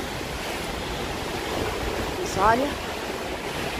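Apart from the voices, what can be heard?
hurricane wind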